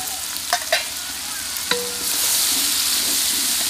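Red chili powder, salt, turmeric and crushed dried coriander fry in hot oil for chicken pulao. A few clinks of a stirring spoon come first, then a steady, loud sizzle swells and holds to the end.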